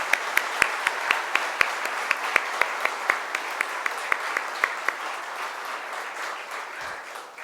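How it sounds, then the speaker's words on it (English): An auditorium audience claps, with close, distinct individual claps over a softer spread of applause that thins and fades out toward the end. "We should again clap for him."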